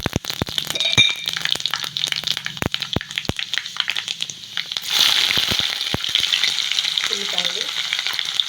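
Cumin seeds crackle in about four spoons of hot oil, with sharp scattered pops and clicks over a soft sizzle. A louder, denser fry swells midway, and a spoon knocks against the pan.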